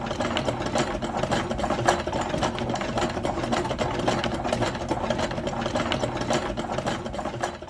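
A sewing machine runs in a fast, steady rapid stitching rhythm, mechanical and continuous, moderately loud with no voices over it.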